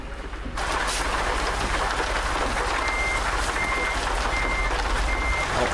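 Loud steady rain pours down in a continuous hiss, with a truck's reversing beeps repeating in the background partway through.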